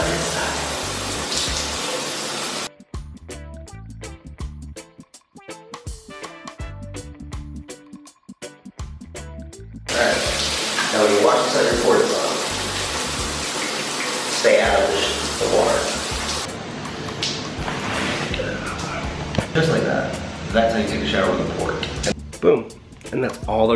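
A household shower runs and splashes, its hiss cutting in and out as the spray is blocked and released, with someone speaking over parts of it.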